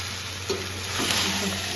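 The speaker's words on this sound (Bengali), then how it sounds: "আর একটু গুড় মিশিয়ে কড়াইয়ে একটু আচার করবো, আর একটু মশলা দেবো" Pickle with jaggery, panch phoron, dried red chilli and spices cooks in a wok in a home kitchen, giving a steady close sizzle and stirring scrape that runs continuously with a few louder scrapes and no talk.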